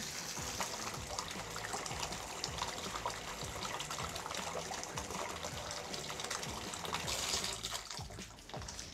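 Steady hot water pours from a faucet fitted with a Delta T13/14 cartridge, a continuous broadband rush that holds even and fairly close throughout with no talking.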